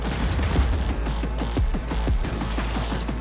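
Gunfire in the video game Cyberpunk 2077, a dense burst of rapid shots and impacts layered over a steady low rumble, loud and continuous for the whole stretch.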